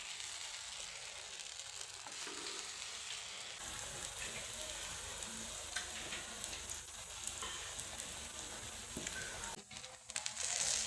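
Pitla frying in a pan in a home kitchen gives a faint, steady sizzle running throughout, with some stirring scrapes near the end and no talk over it.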